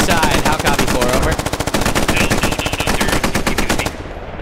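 Rapid machine gun fire in the Squad video game, a dense run of sharp repeated bursts that stays loud and close throughout, with mortar fire mixed in.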